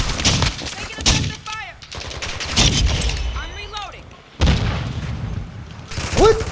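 Shotgun blasts from a Call of Duty video game boom in several loud, spaced shots, with people talking between and over the gunfire.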